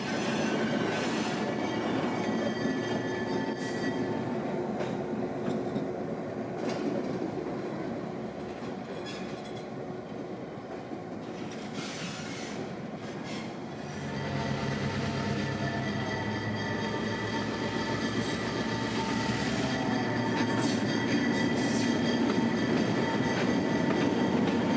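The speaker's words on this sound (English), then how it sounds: "8330 notches up out of the house track and back onto the main." Locomotive 8330 at the Florida Railroad Museum notches up, moving from the house track onto the main line. Its engine drones loudly and continuously, with rail clatter and wheel squeal, and the engine pitch shifts partway through.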